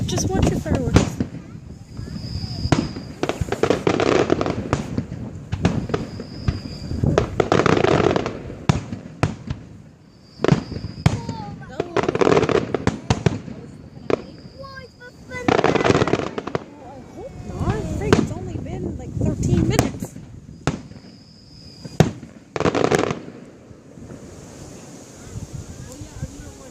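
A Pembroke fireworks display finale in 2015 bursts in a dense, rapid barrage of booming explosions and crackling pops. Outdoor wind rumbles across the microphone and occasional voices can be heard between the blasts.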